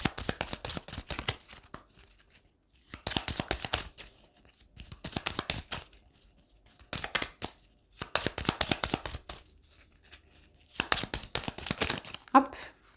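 Ho'oponopono oracle cards shuffled and handled close up, in bursts of rapid papery riffling and flicking separated by short pauses, with a faint voice briefly at the end.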